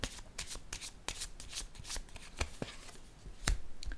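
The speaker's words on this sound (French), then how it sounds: "Je vais déposer une carte ici." Tarot cards are shuffled and laid down on a table, heard as a quick, close run of crisp riffling flutters and sharp taps, fairly quiet with no talking.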